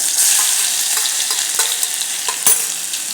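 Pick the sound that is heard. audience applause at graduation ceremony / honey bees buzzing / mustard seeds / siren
mustard seeds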